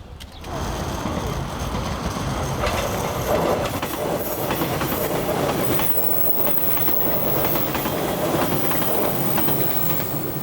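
A train passes on tracks directly overhead in Beppu, Japan, rumbling loudly close by, wheels clattering and faintly squealing in a sustained roar.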